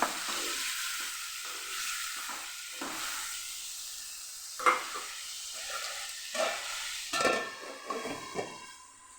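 Tomatoes for a Kathiyawadi tomato chutney simmer covered in a pan over low heat, giving a soft steady sizzle and hiss with a few light clinks of the lid or utensils toward the end.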